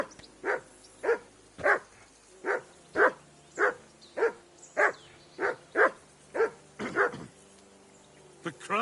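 A dog barks in the medieval video game Kingdom Come: Deliverance II, giving a steady run of about a dozen evenly spaced barks, fairly close and clear over a quiet background.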